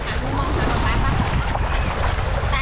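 Sea waves wash in at a beach with a steady surging roar, wind buffeting the microphone and a boat nearby, loud and continuous with no clear voices.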